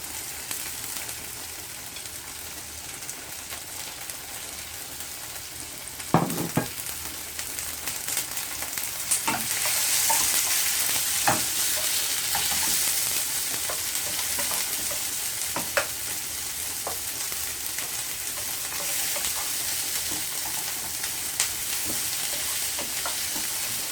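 Onion and pepper sweating in a hot pan, giving a steady, close sizzle throughout with a few sharp clicks and stirring knocks scattered through it, and no talking.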